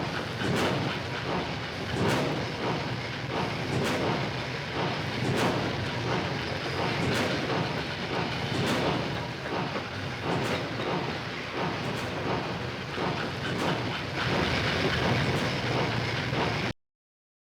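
Sound-design train effect, heard solo: a steady, loud rumble of rolling rail cars with regular clickety-clack wheel beats and hiss, running continuously and then cutting off abruptly.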